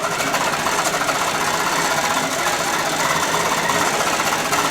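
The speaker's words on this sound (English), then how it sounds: "I'm just going to touch my sew button," A Grace Elite quilting machine on a quilting frame stitching steadily, a loud, continuous rapid mechanical chatter and hum with no talking over it.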